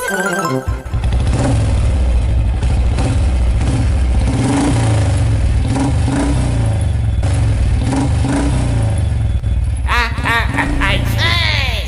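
A motorbike engine revs and roars continuously up close, with voices talking over it and a sharp burst of noise near the end.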